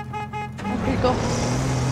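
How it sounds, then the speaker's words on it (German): A car horn honking in the video game Battlefield 3, with short repeated toots first, then engine and road noise building up close. "Nach dem Update kann man jetzt ja auch hupen."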